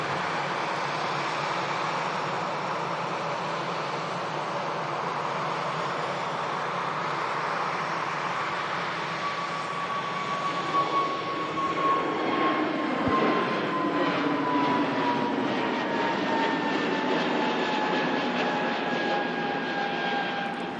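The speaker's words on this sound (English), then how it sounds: "now we have a Scandinavian Neo in the departure roll" A Scandinavian Airbus A320neo jet rolls for takeoff at Manchester Airport in thick fog, a steady, loud engine roar with a rising whine that builds and shifts in pitch as it accelerates, alone without talk.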